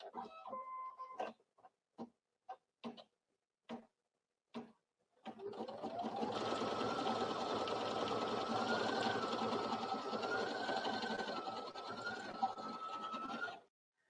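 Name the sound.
embroidery machine stitching a design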